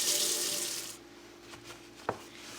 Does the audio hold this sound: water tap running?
yes